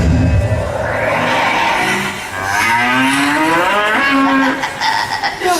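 A cow lets out several loud, close moos, long rising and falling calls with brief pauses between them, carrying clearly on its own.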